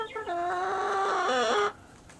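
A single chicken gives a drawn-out, rising and falling squawking call in a backyard coop, close and clear, stopping abruptly after under two seconds.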